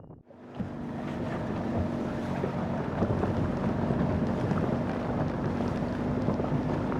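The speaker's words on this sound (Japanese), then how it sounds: "最後に小さなボートに乗ってバレッタへ渡りました。" Small boat crossing the water to Valletta, Malta, a steady engine drone blended with wind buffeting and splashing water continuing throughout, no talking.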